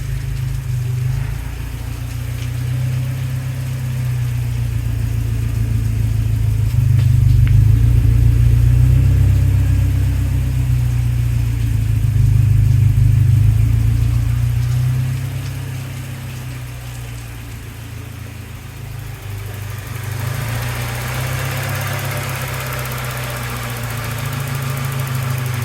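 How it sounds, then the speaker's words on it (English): A 1988 Saab 900 SPG engine idles steadily after a cold start, a loud, close low hum that swells and settles over about 25 seconds, with rain hissing in the background. "The engine sounds pretty healthy."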